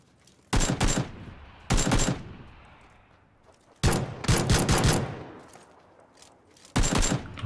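Loud bursts of video game gunfire in four separate volleys, each roughly a second long with a fading tail between them, rapid automatic fire with no talking.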